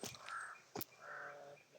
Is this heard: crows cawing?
yes